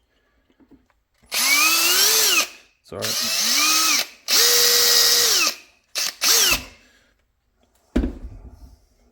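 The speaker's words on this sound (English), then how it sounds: "what I'm going to do is line up this side and then drill in there" A power drill bores into a DIY VR gunstock in several bursts of rising and steady whine, each a second or so long, close and loud, with a brief spoken word and handling noise afterward.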